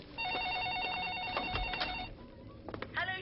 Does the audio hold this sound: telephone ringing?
yes